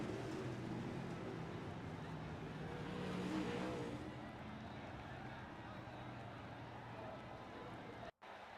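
Dirt track race cars roaring around the oval in a heat race, a steady distant engine drone that swells slightly as the pack charges down the back straight, heard under continuous announcer commentary.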